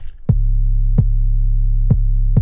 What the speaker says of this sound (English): you can still hear the kick and the 808, at the same time